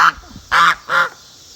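A duck quacking while a rooster pins it to the ground, three loud nasal quacks close up, one short then two longer, with quiet between them.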